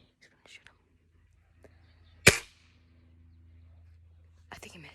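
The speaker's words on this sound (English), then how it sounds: "He's gonna shoot him." A single sharp gunshot fired while bird hunting rings out at mid-distance, followed by a brief decaying echo, with faint outdoor rustling and soft movement before and after.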